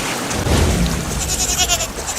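A goat bleats amid floodwater in a flooded village, its cries heard close over a steady wash of rushing water and rain-like noise.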